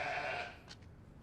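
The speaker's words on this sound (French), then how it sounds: "Je rêve ou ce sont des moutons?" Sheep bleat in a remote, out-of-the-way hollow: one drawn-out bleat up front, then a couple of fainter short calls fading into a quiet background, with no talking.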